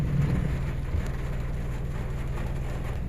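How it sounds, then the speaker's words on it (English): Steady rain falling at a low-cost housing subdivision in Carcar City, Cebu, a constant soft hiss with low rumbling underneath, fairly quiet and continuous, no voices. "it's raining"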